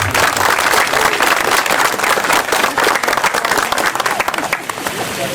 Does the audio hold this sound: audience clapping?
yes